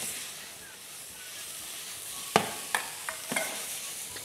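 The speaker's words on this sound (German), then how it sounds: "schön lang anschwitzen, dass die Zwiebel gut durchgart." Onions sweating in a pan on the stove for Swabian Maultaschen, a soft continuous sizzle and hiss with several sharp clicks and pops of stirring toward the end.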